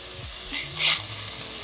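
Onions frying in a pan toward translucency for a golden tomato sauce, a continuous close sizzle that swells briefly as they are stirred, with no talk.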